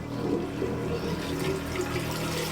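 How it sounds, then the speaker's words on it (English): Salt water filling a boat's toilet bowl after the macerator is run, heard as a steady, fairly loud rush of flowing water with no pauses and no talk. "I'm gonna try filling the bowl up with water."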